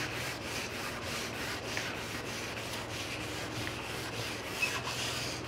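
Hand-sanding a coated countertop with sandpaper wetted with mineral spirits, working along the grain with light passes: a soft, steady rhythmic rubbing and scuffing, close and quiet, with no voices.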